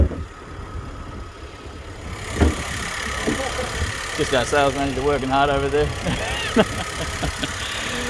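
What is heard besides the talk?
car engine idling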